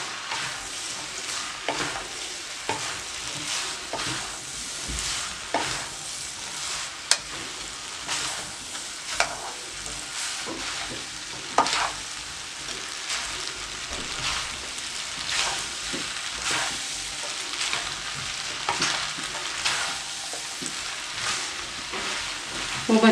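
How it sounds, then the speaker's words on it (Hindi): Chicken vegetable noodles are tossed and fried in a pan over a medium flame, a continuous crackling sizzle broken by repeated scraping stirs and occasional sharp clanks of the utensil, with no speech. "एक मिनट के लिए आपने इनको मिक्स करते रहना है। मीडियम फ्लेम आपने रखना है ताकि ये अच्छी तरह से गर्म हो जाए।"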